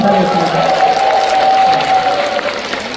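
A concert audience at a Korean song contest performance applauds and cheers in a steady, dense wash of clapping lasting a few seconds, loud and close, with a voice sounding over it.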